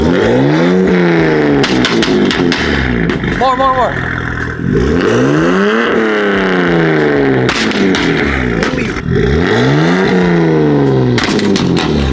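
A loud BMW M3 engine revs again and again in rising, roaring sweeps, heard from outside the car, with short pauses between bursts and a person speaking briefly.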